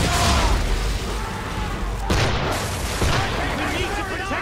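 Ship cannons boom repeatedly during a naval battle in Assassin's Creed 3, loud close blasts rolling into one another, with shouting voices mixed among the barrage.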